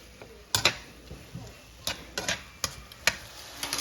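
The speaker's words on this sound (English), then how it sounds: "So I'm going to give it a little stir because I want to make sure that all of my okra is soaking up that flavor from the sausage." Okra and sausage are stirred in a pot. A spoon makes irregular, close scrapes and knocks against the pot over a soft cooking hiss.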